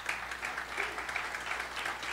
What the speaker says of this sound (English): Let's give a warm hand clap to Stacy.